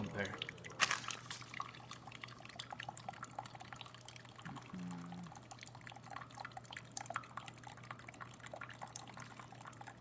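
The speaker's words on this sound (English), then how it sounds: "Good water flow coming out of the machine, not clogging or anything like that" Water dripping and trickling from the group head of a Breville espresso machine as a cup brews, a soft, steady liquid patter with a faint machine hum beneath and a person talking over it.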